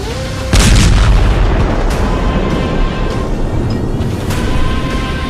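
A missile blast on the Karaj bridge in Iran, one loud booming burst followed by a sustained rumbling roar with further thuds, heavy and distant-sounding, with no voices.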